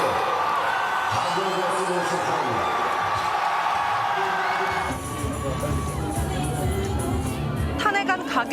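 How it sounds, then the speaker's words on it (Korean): A huge crowd of citizens outside the National Assembly erupts in cheers and shouts as the presidential impeachment motion passes. The roar starts over a voice, then swells into loud massed whooping and clapping. "탄핵안 가결이 선포되자 환호가 터져나옵니다."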